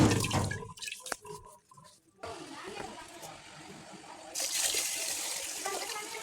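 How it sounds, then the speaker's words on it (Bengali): Rice is rinsed in water in a home kitchen: a voice speaks briefly over handling noises, then splashing and trickling water run on steadily. "চলো চালটা ধুয়ে ভাতটা বসিয়ে দিয়ে যাই"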